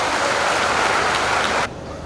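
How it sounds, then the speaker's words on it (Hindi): A crowd at a political gathering in Jaisinagar claps to welcome Jyotiraditya Scindia, a loud, dense roar of hands that cuts off abruptly near the end, leaving a quieter background. "ऐसे हमारे नेता आदरणीय ज्योतिरादित्य सिंधिया जी तालियां बजाकर स्वागत किया।"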